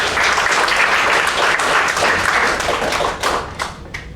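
Close, loud applause from a meeting audience, a thick crackle of many hands clapping that stays strong, then thins into scattered individual claps near the end.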